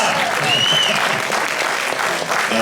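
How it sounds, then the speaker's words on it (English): An audience at the Galacticon 4 convention opening ceremony in 2015 claps loudly and steadily, with some whoops and voices mixed into the applause. "Let's do a round of applause."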